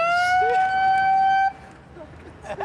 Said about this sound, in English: It has a terrible siren.